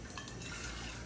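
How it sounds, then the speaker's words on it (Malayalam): Water runs steadily from a tap into a pot for boiling eggs, a continuous close splashing fill heard alone at low level. "ഇതിലേക്ക് വെള്ളം നിറച്ച്"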